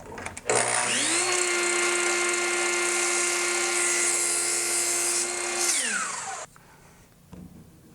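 A power saw cuts mitered wood trim: the blade spins up to a loud, high, steady whine, holds through the cut for several seconds, then winds down and falls quiet, with no one speaking.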